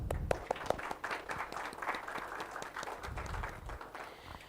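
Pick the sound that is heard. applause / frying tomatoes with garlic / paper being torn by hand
applause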